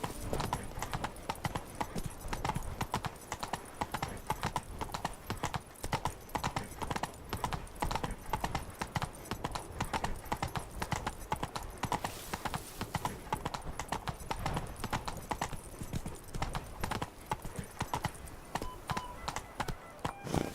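Roach, a horse in The Witcher 3, gallops with fast, rhythmic hoofbeats that clip-clop steadily and quietly throughout, with a faint voice speaking over them.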